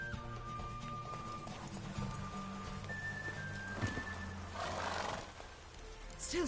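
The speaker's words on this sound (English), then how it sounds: "I like the horse racing stuff." Hooves clip-clop from a racing horse in the video game Witcher 3, with a neigh and whinny rising partway through, all set against game music and ambient sound.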